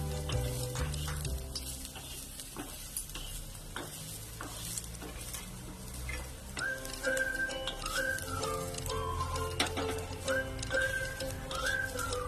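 Pigeon pea grains being dry-roasted in a pan at home: a steady, soft scraping and rustling as the grains are stirred, with faint bird calls chirping in the background.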